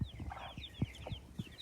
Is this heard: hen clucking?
yes